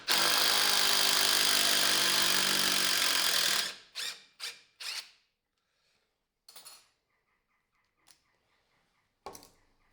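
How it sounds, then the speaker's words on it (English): A cordless drill driver, held one-handed, runs in a loud steady burst for several seconds, then gives a few short separate pulses and quieter clicks with gaps between. "we'll try the same now with the drill driver"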